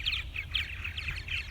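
Male purple martins sing in the evening near their birdhouses, a run of rapid gurgling, chirping phrases repeated in quick bursts over low background rumble.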